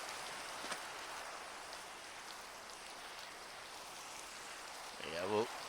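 Steady soft rain falling in a modded Minecraft world, a faint even hiss throughout, with a brief voice at the very end.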